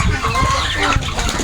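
Chickens on a farm, with a large hen or rooster among them, cluck in a short continuous burst of farmyard fowl noise close by, with no voices.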